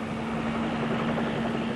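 A military helicopter flies over the Gulf, its steady rotor and engine drone held at an even level, with a low tonal hum running through the whole short stretch and no voices.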